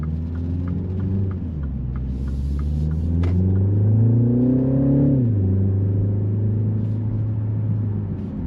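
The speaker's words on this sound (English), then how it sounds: "Acceleration is pretty quick" A 2025 MINI Countryman S All4 accelerating, a cabin-heard engine drone climbing steadily in pitch through the gears, then dropping at a shift and settling into a steady hum, loud and close.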